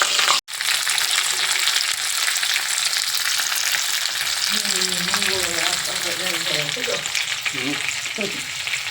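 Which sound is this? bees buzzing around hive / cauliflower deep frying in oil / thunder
cauliflower deep frying in oil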